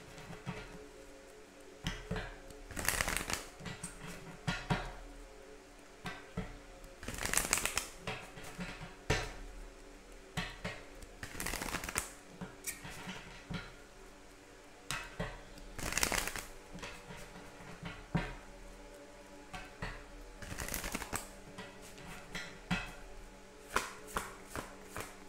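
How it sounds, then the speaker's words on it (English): A Romance Angels Oracle deck by Doreen Virtue is shuffled by hand in close, crisp riffling bursts that come again and again with brief pauses between them. "So now I'm going to pull a card from the Romance Angels Oracle deck by Doreen"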